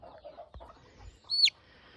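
Gamefowl chicks and hens are close by, with a faint low cluck or two and then a single sharp, high chirp near the end, quiet and brief with no talking.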